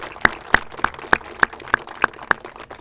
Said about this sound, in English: How about a round of applause for Troop 5912?